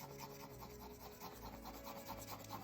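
Pencil shading rubbed over a drawing of hair, a faint, steady close-up rasping rub with a soft repeating back-and-forth texture and no talking.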